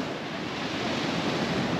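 Ocean surf rolling in on Duli Beach, Palawan, a steady broadband wash of breaking waves mixed with some wind noise, continuous and fairly loud with no voices.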